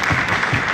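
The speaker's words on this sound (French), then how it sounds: "Les applaudissements" Applause from a conference audience welcoming a surgeon onstage, a dense, steady wash of many hands clapping at close range for under a second.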